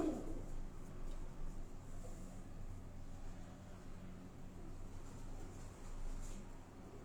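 Soft, low cooing of pigeons repeating in the background over a steady hiss of ambient noise.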